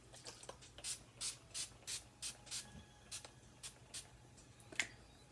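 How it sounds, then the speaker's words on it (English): Makeup setting spray is spritzed in a quick series of about a dozen short, close hissing bursts in a fairly steady rhythm, with brief pauses between them and no talking. "So a few squirts of this, once you've put your makeup on, it sets it."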